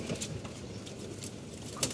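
Safchilla pigeons on a rooftop, giving soft, low cooing that runs steadily through the two seconds with a brief sharper flutter near the end.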